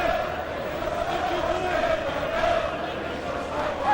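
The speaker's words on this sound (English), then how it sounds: "Good crowd in tonight, supporting the Fleetwood Cod Army." A football stadium crowd of Fleetwood Town supporters at a night match against Stockport keeps up a constant, moderately loud roar and murmur, with distant chanting mixed in.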